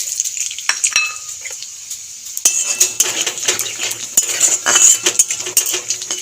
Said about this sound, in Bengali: ধীরে ধীরে ফোড়নটাকে ভেজে নেব।